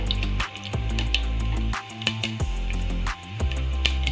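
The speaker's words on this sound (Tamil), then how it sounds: "கடுகு வந்து நல்லா பொரிஞ்சிட்டு இருக்கு." Mustard seeds and urad dal crackling in hot oil and ghee for wheat rava upma give a steady sizzle with sharp pops and spits scattered irregularly throughout, close and fairly loud, no voices.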